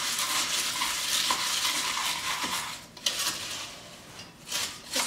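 Cornflakes being stirred through melted chocolate in a bowl, a continuous scraping, crackly rustle with a few sharper clinks of the utensil against the bowl, close and fairly quiet with no talking.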